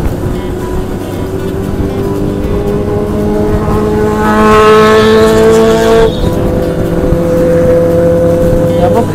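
A Honda CBX motorcycle engine revs hard on an expressway, its loud climbing whine peaking midway, then settling to a steady drone beside steady traffic rumble.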